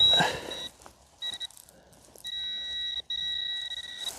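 A metal detector beeps with steady electronic tones in short and longer pulses, broken by brief gaps, clear and close with no speech, signalling on an aluminium can tab buried in a hole.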